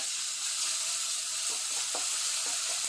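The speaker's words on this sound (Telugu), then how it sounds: "దీంట్లో ఒక స్పూన్ అల్లం వెల్లుల్లి పేస్ట్ చేద్దాం. కొంచెం గోలిచ్చి" Ginger garlic paste sizzling in hot oil in a pan while paneer butter masala is being cooked: a steady, bright frying hiss with a few soft stirring clicks, close and continuous, and no talking.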